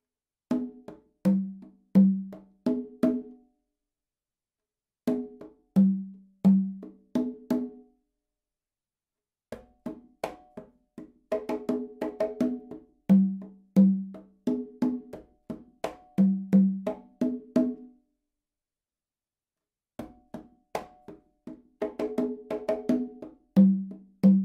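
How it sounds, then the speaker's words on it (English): Conga drums play a salsa variation meant to push a horn section, sounding as repeated short phrases of open tones and soft ghost notes separated by silent gaps, close and dry with no other instruments. "two opens on the conga with the dominant hand,"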